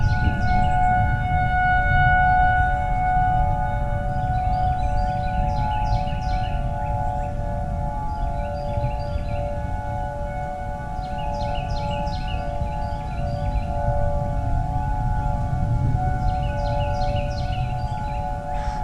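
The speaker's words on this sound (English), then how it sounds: "Let's just take in the sounds of the tornado warning. The sirens" Outdoor tornado warning sirens wail steadily with sustained wavering tones, joined by a second rising and falling siren pattern in the distance, with no talking.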